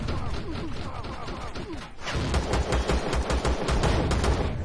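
Automated turret in Empyrion Galactic Survival firing a rapid burst of loud gunshots, preceded by quieter crackling game sounds and a brief lull.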